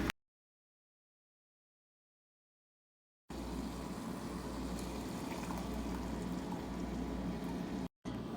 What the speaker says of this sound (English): we're gonna let our meat simmer